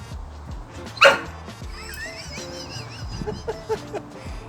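A dog gives a single sharp bark or yip, loud and close, during outdoor play with people, followed by quieter scattered whimpers or yelps.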